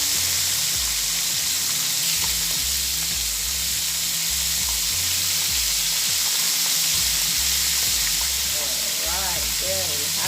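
Floured fish, Jamaican-style, fried in hot oil in a pot: a steady, dense sizzle hisses on throughout with a low background hum.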